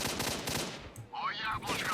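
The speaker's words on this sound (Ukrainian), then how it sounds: "Я взагалі не розумію, звідки вони стріляють, якщо чесно." Enemy gunfire in S.T.A.L.K.E.R.: Shadow of Chernobyl, rapid bursts of close shots crackling in quick succession, briefly dipping before another volley, with a faint whooshing effect in the middle.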